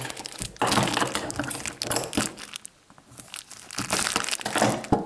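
A parcel is cut open with scissors, with crinkling and crumpling of packaging and snipping, loud and close, several bursts with a brief quieter pause midway.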